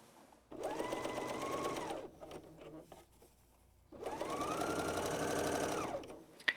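A Bernina L 660 overlocker sews a decorative rolled hem in two close, loud bursts of about one and a half and two and a half seconds. Each burst has a rising whir that holds steady and then winds down, with a short quiet pause between them.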